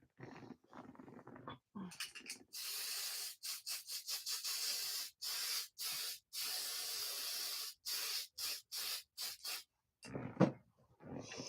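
Spray paint hisses onto a foam puppet in a rapid series of short bursts and longer sustained sprays, close and fairly loud, separated by brief pauses, with a few light handling knocks near the end.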